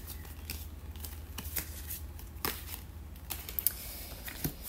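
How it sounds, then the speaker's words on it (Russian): A deck of tarot cards being unwrapped and opened, with sharp crisp snaps, crinkles and light clicks of card stock and packaging, close and fairly quiet over a low background hum. "Итак, колоду открываем."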